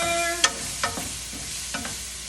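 Leeks cooking in a pan are stirred, giving a few brief scraping strokes over a soft, steady sizzle, close and fairly quiet.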